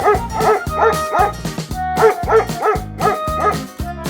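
A dog barks in a repeated, rhythmic series of close, loud yips mixed with whimpering cries, each bark evenly spaced with brief pauses between.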